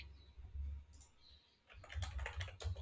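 Someone types Python code on a computer keyboard in short, close bursts of key clicks with a brief pause in between, and no one speaks.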